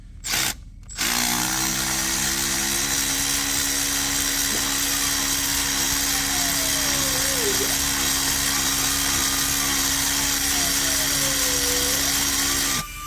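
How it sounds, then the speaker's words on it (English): A Milwaukee electric ratchet runs continuously, removing spark plugs from a 2015 BMW 750Li engine, with a loud, steady motor whine whose pitch rises and dips slightly as it works. "I'm actually going to take them out with my my electrical Milwaukee ratchets"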